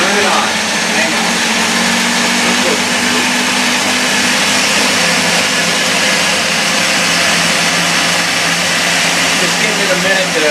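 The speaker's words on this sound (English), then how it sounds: "And I do use a Ninja mixer. Super, super strong." Ninja blender mixing a nut berry drink, a loud constant motor whir with dense grinding roar running steadily throughout, close and unbroken.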